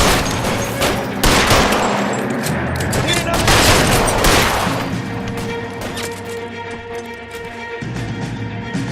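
Heavy gunfire erupts in the video game L.A. Noire, a loud fusillade of overlapping shots and crashing impacts that gradually thins out, with voices speaking over the noise.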